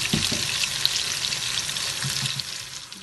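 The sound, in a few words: food browning in frying pan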